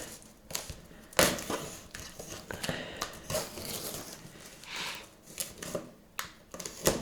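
A sharp knife slicing through packaging on a newly delivered Philips Performer Active FC8578/09 vacuum cleaner box, with scattered close crinkles, scrapes and cutting strokes, some louder bursts, and faint talk.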